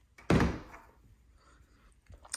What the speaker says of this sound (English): you've got these twin French doors here that open and close, going into the bath.